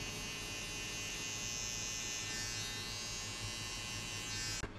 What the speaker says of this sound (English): Next step, we'll use the trimmer.